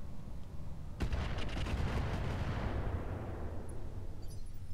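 A BattleTech mech in Roguetech fires all its weapons at once: a sudden heavy blast opens a barrage of rapid booms and cannon bursts, rolling into a sustained rumbling roar that slowly fades.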